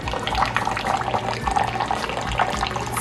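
New coffee machine spitting water during a cleaning cycle, a close, continuous splashing trickle with small gurgles and drips throughout.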